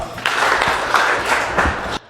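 Short burst of classroom applause for a student during a secondary-school physics lesson on light dispersion, a few dense claps close by that stop abruptly after about two seconds.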